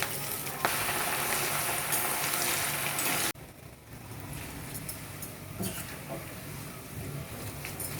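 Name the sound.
tempering frying in oil with curry leaves, garlic, chillies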